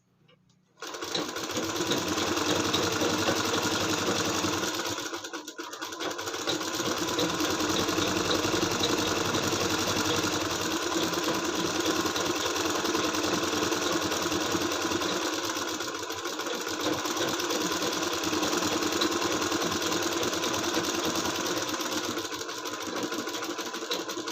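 A sewing machine runs continuously as it stitches a palazzo, a loud, fast, even whirring hum with a couple of brief pauses.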